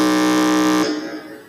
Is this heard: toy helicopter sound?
no